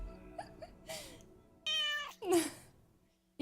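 Several cat meows play as a stream alert sound, a couple of soft short mews followed by two louder drawn-out meows, close and clear against near silence.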